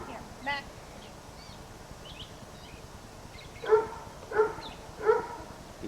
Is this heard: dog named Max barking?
yes